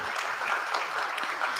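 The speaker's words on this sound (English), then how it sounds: "I think that deserves a round of applause if you all would honor him." A brief burst of steady audience clapping honors a participant at a panel on Ohio politics, even and moderately loud for under two seconds.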